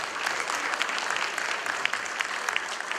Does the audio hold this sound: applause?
yes